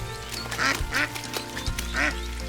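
Three nasal quacks from a cartoon mother duck out in the rain, evenly spaced and close, over soft background music.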